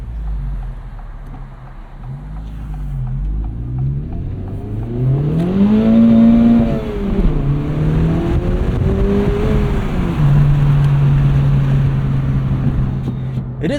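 A 2024 Acura Integra Type S hot hatch with a 320-horsepower front-wheel-drive engine pulls hard through first and second gear, the engine note climbing, dropping at the shift and climbing again, loud from inside the cabin.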